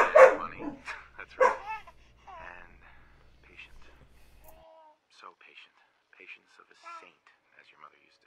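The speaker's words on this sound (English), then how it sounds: "Please ignore my dog in the background." A dog barks sharply a few times close by at the start, with faint yips and household sounds trailing off afterward.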